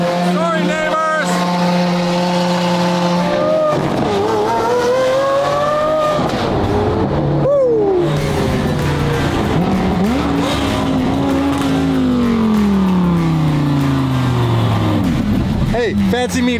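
A Lamborghini engine fires up from cold and revs, its pitch swinging up and down through loud, sustained flares, with voices over it at times.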